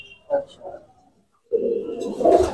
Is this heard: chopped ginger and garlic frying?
no